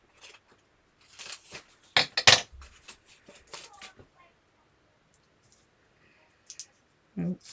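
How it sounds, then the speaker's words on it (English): Scissors chopping up foam pads, a quick run of sharp snipping clicks close up, then a pause and a couple of later cuts, with a voice speaking briefly. "This is how I ruin all my scissors,"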